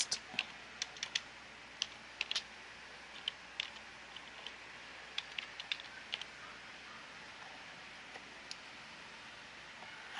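Typing text into a new text document on a Windows computer keyboard: sparse, quiet key clicks in short irregular bursts over a faint steady hiss, with no voices.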